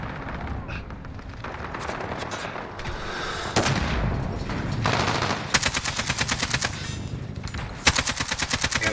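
AK-74u fire in Call of Duty Modern Warfare rattles in loud rapid automatic bursts, with sparser shots early on and dense sustained strings of rounds later, plus a faint voice now and then.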